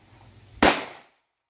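A Girsan 1911C pistol fires a single .45ACP round of 230 grain Italian brass ammo, one sharp, loud report with a short decaying tail, heard alone after a quiet moment.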